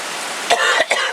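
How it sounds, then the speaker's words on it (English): A short burst of two or three dry coughs, close to the microphone, over a soft hiss of rain. "sorry about all the coughing."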